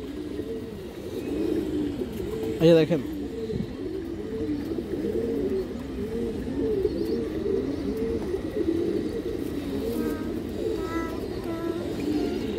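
High flyer pigeons coo in a steady, overlapping chorus close by, and someone speaks briefly over them.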